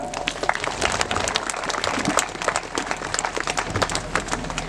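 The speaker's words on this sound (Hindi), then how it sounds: "उनके लिए जोरदार तालियां" Audience applause at a village celebration welcoming a newly ordained Catholic priest to his home: dense, steady clapping from a gathered crowd that keeps going at even strength for the whole stretch, with no voices above it.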